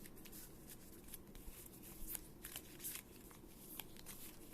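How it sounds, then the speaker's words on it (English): Stiff sleeved Pokemon trading cards are shuffled by cutting, giving a steady dense riffling and papery rustle with sharper snaps now and then, close and fairly quiet, with no talk. "we're just going to shuffle by cutting"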